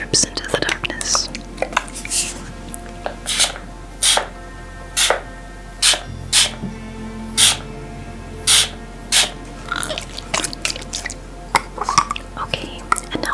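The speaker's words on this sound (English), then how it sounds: "I'm going to spray some midnight spell" Mist spray called Midnight Spell, a series of short sharp spritzes repeated roughly every second, close and crisp, alongside soft whispered speech.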